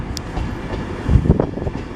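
A train pulling out of Peterborough station, a low rumbling roll with a few rising clanks and rail noise building toward the end, fairly close and without talk.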